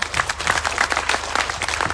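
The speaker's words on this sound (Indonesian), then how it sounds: "Tepuk tangan untuk Pak Roy Sakti ya kan" Audience applause at a talk on crypto trading robots and assets, a dense patter of many hands clapping steadily throughout, loud and close, with no speech over it.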